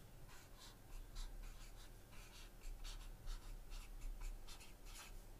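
A pen or pencil drawing a parallelogram on paper, quiet scratchy strokes in a steady repeated rhythm, close and faint, with no talk.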